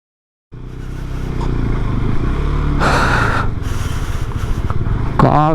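A motorcycle ridden on a rough off-road track near Pangong in Ladakh, its engine droning steadily and loud throughout after a sudden start, with a brief brighter surge midway.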